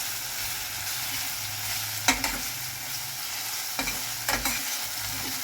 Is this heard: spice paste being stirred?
yes